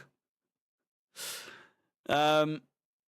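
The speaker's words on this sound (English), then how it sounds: "Sorry, I keep yawning." A single drawn-out human yawn, starting as a breathy inhale and ending in a voiced, moaning exhale, heard close and alone with a pause before it, during a football match watch-along.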